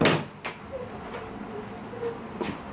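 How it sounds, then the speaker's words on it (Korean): Wardrobe and drawers rummaged through in a hurried home burglary: faint scattered knocks and wooden clatters of doors and drawers, with soft shuffling between them and a sharper bump near the end. "서둘러 옷장과 서랍장을 뒤져 약간의 금품과 현금을 찾아낸"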